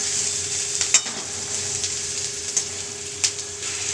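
Steady close-up sizzling of lote fish frying lightly in a pan before spices are added, with occasional scraping clicks from a spoon stirring.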